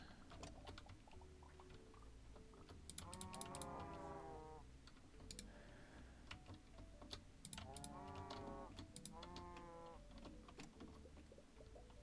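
Low, drawn-out video game cattle moos repeat a few times over a faint backdrop of clicking keystrokes, quiet and distant-sounding.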